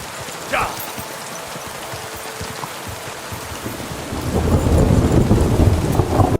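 Thunderstorm in the video game Kingdom Come Deliverance 2: steady rain pattering on surfaces, with a sharp crack of thunder early on and a deep rolling rumble that swells and carries through to the end.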